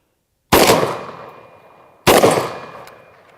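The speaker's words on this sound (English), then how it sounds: "Let's hit with some buckshot here." Shotgun loaded with buckshot fired twice outdoors, each blast a loud sharp crack with a long decaying echo, about one and a half seconds apart.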